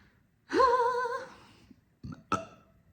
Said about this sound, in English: We love a double burp confirmation.